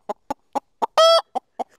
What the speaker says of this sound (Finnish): Tässä on meidän tilan kukko Piiparinen